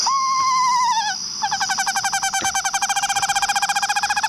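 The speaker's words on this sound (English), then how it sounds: "It is a screech owl that has the whinny call." A screech owl's whinny call played from a recording: a loud, descending whistled whinny that breaks into a fast, steady trill, with no talking over it.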